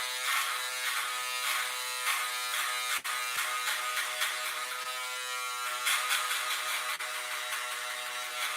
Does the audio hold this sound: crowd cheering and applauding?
no